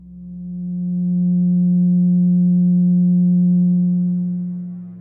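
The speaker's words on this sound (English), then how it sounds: "let's listen to what the 180 total degrees contained in a triangle sound like" A pure 180 Hz tone meant to stand for a triangle's 180 degrees hums steadily, fading in and out smoothly over about five seconds, alone and loud.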